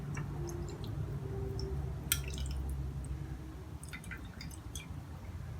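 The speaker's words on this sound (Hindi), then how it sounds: "मिक्स करने के बाद मैं इसका पानी निकाल लूंगी एक बाउल में।" Water from soaked rice drained into a bowl, faint trickles and scattered drips over a low background hum, with a few brighter splashes in short clusters.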